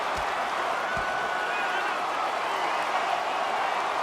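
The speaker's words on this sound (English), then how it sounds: "this crowd on their feet, and this is what they wanted to see" Arena crowd in the NHL 25 video game cheering during a rivalry hockey match, a steady dense roar of voices sustained throughout with two brief low thumps near the start.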